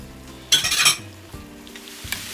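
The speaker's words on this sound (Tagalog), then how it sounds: "Now I'm going to add the eggplant." Eggplant is tipped into a hot pan with water for a stir fry with sardines, bursting into a loud hiss, followed by metal utensil clinks and scrapes as it is stirred, close with no talking.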